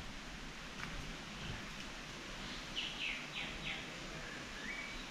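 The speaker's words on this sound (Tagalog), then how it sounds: "Pakinggan nyo yung mga ibon." Faint, high bird chirps come and go over a steady hiss of outdoor ambience, distant and sparse.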